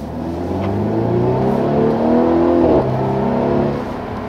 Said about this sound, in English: you can also hear this nice plopping sound out of the exhaust